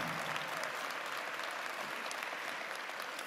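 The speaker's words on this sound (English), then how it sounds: "Let's give them all a round of applause." Steady applause from a commencement ceremony audience, even and continuous throughout, moderately distant with no standout voices.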